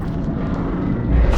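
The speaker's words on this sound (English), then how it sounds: "An energy pulse from the anomaly." Deep, rumbling energy pulse from the anomaly in the video game Lone Echo 2, a loud low surge that swells slightly toward the end of a short burst.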